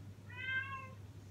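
A cat gives a single faint meow that sits under a steady low hum in an indoor room.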